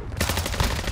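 Dense, continuous gunfire in the video game Modern Warfare II, a loud rapid burst of shots filling the whole moment.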